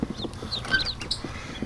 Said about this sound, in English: Hello, little ducks.